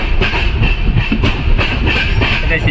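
Ratnagiri passenger train on the Konkan Railway running at speed, loud steady rattle with rhythmic clickety-clack of wheels over rail joints heard from inside the coach.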